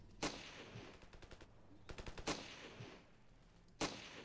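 Gunfire in the Ravenfield first-person shooter: sharp single shots recurring about every 1.5 seconds, interleaved with rapid bursts of automatic fire, fairly quiet and with no talk over it.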